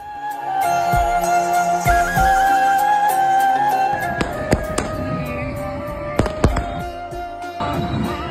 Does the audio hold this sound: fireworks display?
yes